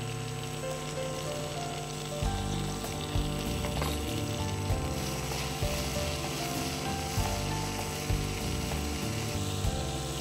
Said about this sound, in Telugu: టమాటాలు వేస్తున్నానండి. కొద్దిగా సాల్ట్ వేసుకుందామండి.